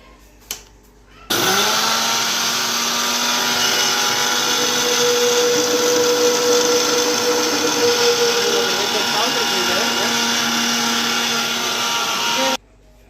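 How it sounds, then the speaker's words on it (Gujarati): Sugar is ground to powder in an electric mixer grinder: after a brief knock, a loud continuous motor whine runs for about eleven seconds with a slight pitch wobble near the end, then stops abruptly. "ખાંડ દળી લેવાની છે"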